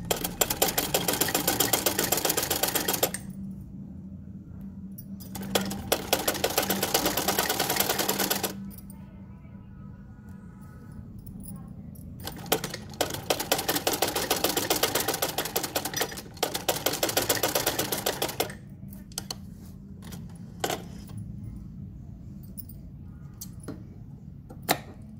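Sewing machine stitching lace onto bell sleeves, running in long bursts of rapid, even mechanical whirring with quieter gaps between them, close and steady.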